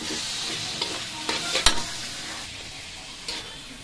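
Vegetables sizzle and fry steadily in a pan, with a spatula scraping and stirring in occasional bursts over the constant close, loud hiss.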